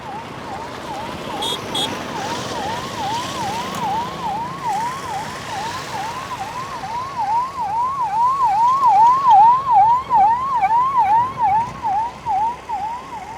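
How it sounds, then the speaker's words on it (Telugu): An ambulance siren wails in a rapid repeating rise-and-fall, growing louder as it approaches over road traffic noise of cars, buses and auto-rickshaws on a badly damaged road. "అదిగో అంబులెన్స్ కూడా వస్తుంది ఒక అంబులెన్స్ కూడా"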